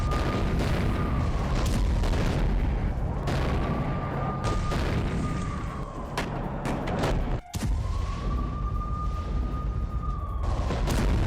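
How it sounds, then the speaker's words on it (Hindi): Loud, continuous rumble of blasts from a blown-up weapons depot in Siversk, with repeated booms and sharp cracks over a dense roar, one brief dropout partway through. "सिवेर्स्क में रूस ने यूक्रेन का हथियार डिपो उड़ाया"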